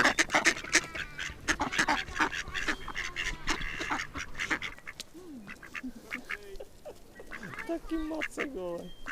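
A duck quacks repeatedly in short nasal bursts, fairly close, with scattered calls through the clip and a voice or two faintly in the background.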